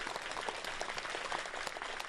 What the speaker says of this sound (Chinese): 我们掌声给鼓励一下，好不好？